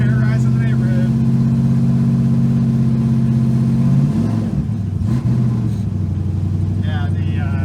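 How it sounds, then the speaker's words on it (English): A 1977 Chevrolet Nova with an LS V8 swap and cheap mufflers revs loudly and steadily, its deep exhaust drone rising and settling while a voice talks briefly over it. "These mufflers don't sound bad at all."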